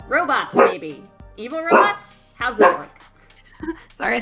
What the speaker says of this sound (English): that's the dog